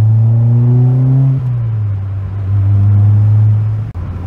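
Peugeot 206 RC sports car engine and exhaust, a loud, close, steady low drone with a slight pitch drop partway through, then holding a smooth, fairly restrained tone with no one speaking.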